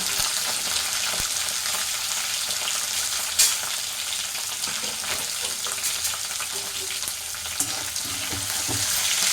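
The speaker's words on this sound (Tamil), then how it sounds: "இந்த வெங்காயம் தக்காளிலாம் வதக்கி அரைச்சோம்னா குழம்பு கொஞ்சம் நல்லாயிருக்கும்" Onion and tomato sauté in a pan for a simple home curry, giving a steady broadband sizzle with a few brief stirring knocks and clinks, close and continuous with no talking.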